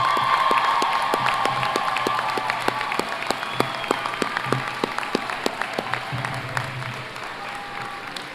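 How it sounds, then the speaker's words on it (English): A round of applause from a crowd at a university graduate ceremony: many hands clapping steadily, gradually thinning toward the end. "let's recognize them right now with a round of applause"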